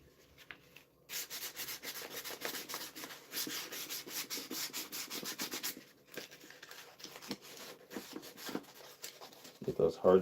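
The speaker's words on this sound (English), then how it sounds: "Might do a little bit of hand sanding around the edges just to make sure I get it all." Hand sanding along the edges of a wooden bandsaw box in a workshop: a steady, close scratchy rubbing in rapid back-and-forth strokes. It runs for several seconds, pauses briefly, then resumes in shorter bursts, with a faint voice now and then.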